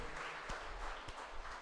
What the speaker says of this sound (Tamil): கைத்தட்டி ஆண்டவரை மகிமைப்படுத்துவோம்